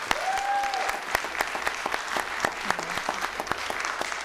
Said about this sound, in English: Please give them another hand of applause